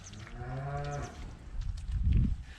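Cattle moo on a cow-breeding farm in southern France, one long low moo, then a second rougher call, close and clear with no talking.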